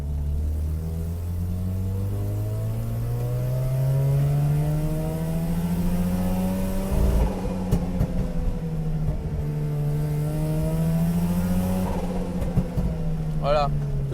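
A rotary engine revs steadily, its harmonics climbing and falling through repeated rises in pitch, running loud and continuous for the whole stretch with a few brief knocks partway through.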